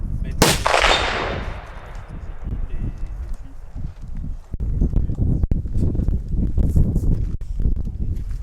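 A rifle fires at an outdoor shooting range in Sweden: one sharp, loud shot with a long decaying echo, followed by close shuffling and handling noises and a few muffled knocks.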